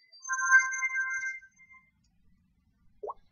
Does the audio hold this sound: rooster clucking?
no